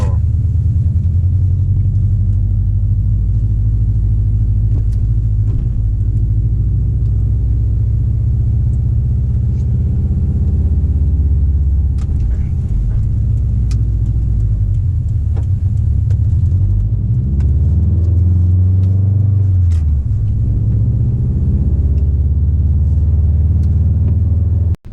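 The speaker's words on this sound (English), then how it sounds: "I hear the gear whines, I hear the steering wheel sounds" Interior of a Subaru WRX STI on the move, with a steady low road rumble and engine drone throughout, faint whine and occasional small clicks over the continuous hum.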